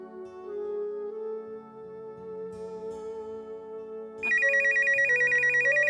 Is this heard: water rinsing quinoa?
no